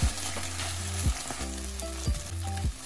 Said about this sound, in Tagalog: i-fry ang ibang parte ng tuna para merong crunchy effect